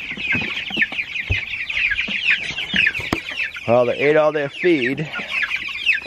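Meat bird chickens housed in a greenhouse chirp and cluck continuously, with a run of louder clucking calls in the middle, while a person talks briefly over them.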